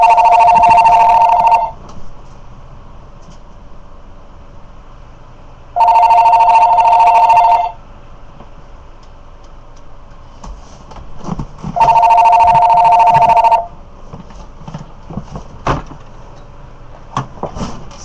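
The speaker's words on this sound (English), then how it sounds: "The phone's ringing off the hook." A telephone rings in three loud bursts of about two seconds each, spaced several seconds apart, with quieter room sounds and faint clatter between rings and no talking.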